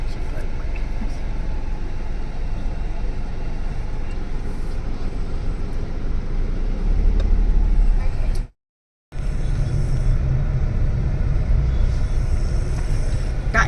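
Bangalore road traffic makes a continuous low hum and rumble of passing vehicles, with people talking over it and a brief cut to silence partway through.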